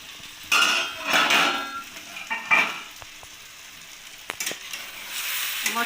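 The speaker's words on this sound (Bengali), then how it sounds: "এবার ঢাকাটা খুলে দেখে নেব।" A metal lid lifted off a pot of boiled cabbage and vegetables, giving a few clanks and scrapes of metal over a steady background hiss of cooking, with no talking.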